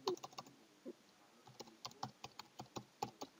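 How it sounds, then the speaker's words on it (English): Computer keyboard keys tapped at an uneven pace while a file name is typed in, producing crisp, close clicks in short bursts with small pauses between them, and no voices. "we right click and we rename this zip file and just name it to"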